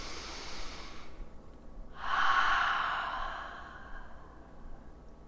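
A person in a gentle yoga session breathes in through the nose, then lets out one long, deep exhale through the mouth, a close, soft breathy rush that swells and slowly fades, with no speech.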